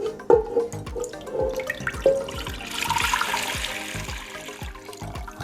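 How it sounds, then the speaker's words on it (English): Strained braising juice from short ribs is poured back into a pot, giving a rough, splashing trickle with scattered drips and clinks in a sink area, no talking. "now I put the juice back in"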